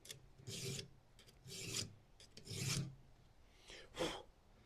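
A file is drawn across the teeth of a relatively new Stihl chainsaw chain, giving four short, crisp rasping strokes, close and distinct with brief pauses between them.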